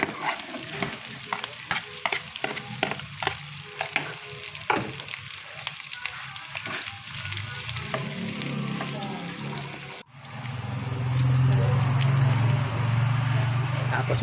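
Garlic and onion sautéing in a pan, a close crackling sizzle punctuated by repeated spatula scrapes and clinks, then a sudden cut to a louder, steadier frying hiss with a low hum beneath.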